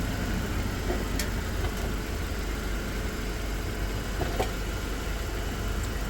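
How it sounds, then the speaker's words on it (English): A car engine idles steadily nearby with the air conditioning compressor engaged, giving a constant dense hum and whir with a few faint clicks and no speech. "Now you can hear the AC is engaged."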